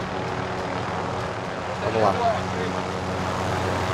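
Helicopter rotor drone from Call of Duty: Modern Warfare gameplay, a steady low engine rumble running throughout beneath someone speaking and game noise.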